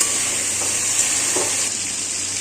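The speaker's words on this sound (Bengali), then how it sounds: "আমার এই চিকেনগুলো ভাজা হয়ে গেছে, লাল লাল করে একটু ভেজে নেব" Chicken pieces frying in a pan for chicken kosha, a continuous close hiss of hot oil with a couple of soft stirring scrapes, no one speaking.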